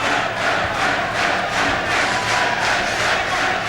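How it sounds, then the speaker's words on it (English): Irish fans roar and cheer in a packed Olympic boxing arena for a Belfast fighter in the closing seconds of a bout, a steady, dense crowd din with no pauses. "they're really cheering him on, the Irish fans"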